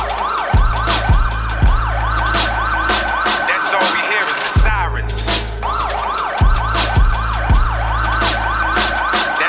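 Loud nearby emergency sirens from an ambulance and police cars wail in a fast repeating rising yelp that runs the whole time, with a brief dip in the middle and a deep rumble underneath.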